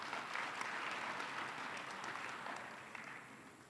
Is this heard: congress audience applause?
yes